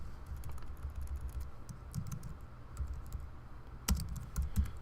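Fingers tap out an address on a computer keyboard in a quick, uneven run of close keystrokes, with a couple of louder clacks near the end and no talking.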